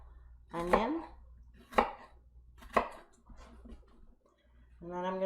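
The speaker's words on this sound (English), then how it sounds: "And then I'm going to go in this way on the side and make a bunch of cuts" Knife chopping an onion on a cutting board: a few sharp, close taps spaced about a second apart, with a voice speaking between them in a quiet kitchen.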